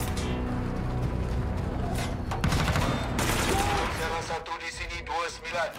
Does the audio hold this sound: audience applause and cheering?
no